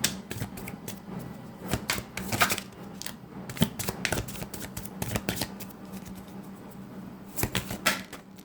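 Tarot cards pulled from a deck and shuffled at close range, a series of crisp riffling flutters and slaps in uneven bursts, with no talk over them.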